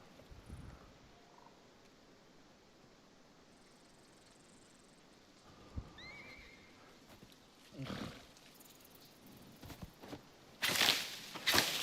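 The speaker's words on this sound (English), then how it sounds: "I hear a horse, which probably means either we're getting attacked or there's a wild horse close by" A horse in the survival video game Icarus gives a faint, distant neigh amid quiet outdoor ambience, followed later by a few louder bursts of nearby activity.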